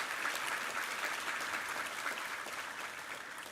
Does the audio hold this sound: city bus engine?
no